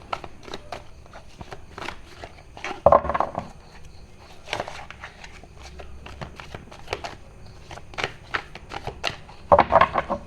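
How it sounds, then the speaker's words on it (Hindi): A deck of tarot cards is shuffled close by in bursts of soft flicks and taps, with two louder riffles and quieter handling between them. "ओके, एक और शफल करते हैं।"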